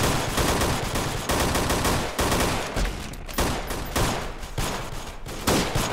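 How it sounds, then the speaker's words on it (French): Continuous heavy gunfire rattles in the Freeman Guerrilla Warfare video game, near and loud, with dense overlapping bursts and a few short gaps. "On vient de se prendre une grenade,"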